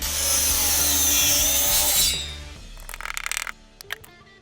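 A power saw cuts a walnut block into a hammer-head shape in a woodworking shop, a loud, steady whine for about two seconds, then it spins down as the wood is handled with a few short rubbing and knocking sounds.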